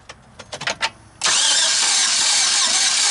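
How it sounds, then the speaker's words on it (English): A 2015 Chevy Express 4.8L engine with zero compression and failed lifters being cranked over, a few quick clicks giving way to a loud, steady whirring drone that continues without firing up. "now that I got all these off and I turn the engine over"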